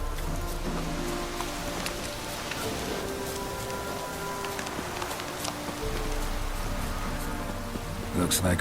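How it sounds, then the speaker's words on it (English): Rain falls in the video game The Witcher 3: Wild Hunt, a dense, steady patter of drops on surfaces with occasional sharper splashes, held at moderate loudness throughout. "Looks like rain."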